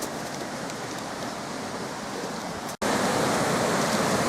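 River water rushes over salmon jumps at Brookhouse, Denbigh, swollen the day after a storm, making a loud, continuous broadband roar. It cuts out for a moment, then resumes slightly louder, with no voices.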